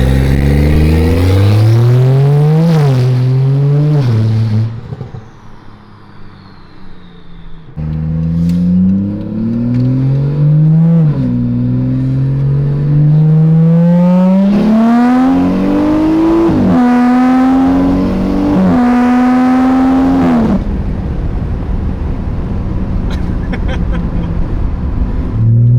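A car fitted with a big turbo and a new downpipe revs hard again and again, loud and close, each rising engine howl climbing and dropping, with one brief lull before more aggressive pulls.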